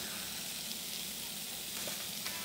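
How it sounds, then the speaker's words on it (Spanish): Garlic sizzles and fries in olive oil in a pan, a steady close hiss with a soft stir near the end and no talking. "Entonces ahora simplemente vamos a dorar un poquito de ajo. Vamos a darle una vueltica de aceite de olivas"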